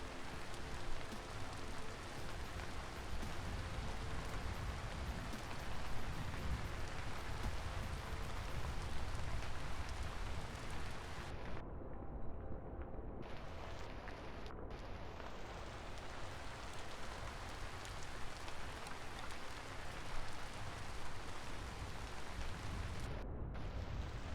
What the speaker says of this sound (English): Very big rainstorm over here.